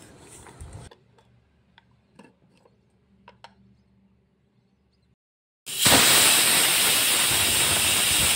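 Moong dal boiling in a pressure cooker: a few faint ticks and rattles, then a sudden loud, steady rush of escaping steam that hisses on to the end.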